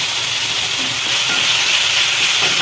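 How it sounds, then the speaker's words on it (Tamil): Chopped tomatoes sauté in a hot pan with onions for a brinjal kuzhambu, giving a steady, loud, close sizzling hiss that holds evenly throughout. "தக்காளி வதங்கிட்டு இருக்கு"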